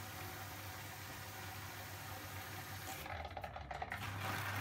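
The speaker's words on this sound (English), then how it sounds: "and then the inflow of water" Water rushes into a homemade DIY dishwasher in a steady, continuous flow over a low motor hum, with a brief patch of splashing and gurgling near the end.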